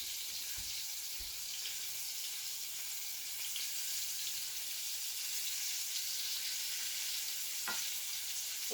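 Flour-dredged pieces fry in a pan with steady, close sizzling hiss throughout, broken by a couple of brief low knocks near the start and a short clatter toward the end.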